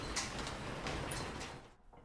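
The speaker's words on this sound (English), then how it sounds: "and they slid the door open." A sliding metal door on a storage unit rolls open in one continuous broadband scrape lasting under two seconds, then drops away into near silence.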